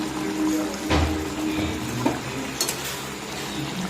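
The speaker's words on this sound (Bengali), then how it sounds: "বেটে রাখা পোস্তটা দিয়ে দিচ্ছি এখন। ভালো করে নেড়ে নেব।" Ground poppy seed paste stirred in a frying pan for aloo posto, a low sizzle with a few scrapes and knocks of a spatula against the pan.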